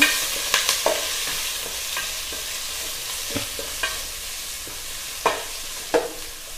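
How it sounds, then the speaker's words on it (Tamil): Curry leaves and onions frying in a pan for paruppu sambar, stirred with a spoon: a soft continuous sizzle punctuated by several sharp scraping knocks at irregular intervals, close up and without talk. "கருவேப்பிலை வெங்காயம் நல்லா மிக்ஸ் பண்ணிக்கோங்க"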